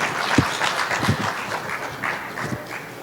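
Applause from an audience at a year-end ceremony for foreign students in Bejaia, honouring the President's speech: a dense, steady patter of clapping across the whole stretch, with a few louder thumps mixed in.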